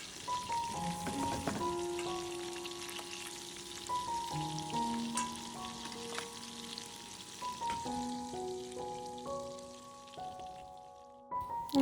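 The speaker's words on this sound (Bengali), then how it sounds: "সবগুলো মাছ দিয়ে দিলাম, আস্তে আস্তে ভাজা হয়ে যাক।" Bata fish frying slowly in a pan of oil for a spicy fish curry, a steady close sizzle running throughout beneath sustained background music tones.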